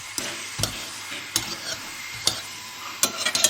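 Paratha frying in a pan with lots of oil, a steady hiss and sizzle running throughout while a utensil stirs and taps the pan in several sharp, close knocks.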